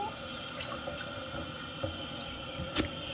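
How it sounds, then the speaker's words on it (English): A toilet tank refilling with water after repair, a steady running and hissing flow close by, with faint trickles and one brief clunk near the end. "our water has filled up, Jojo"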